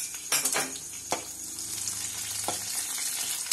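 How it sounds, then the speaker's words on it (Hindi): Green chillies fry in oil with browned onions in a pan, a steady loud sizzle with a few sharp stirring clinks and scrapes. "अब मैं इसमें हरी मिर्च डालूंगी।"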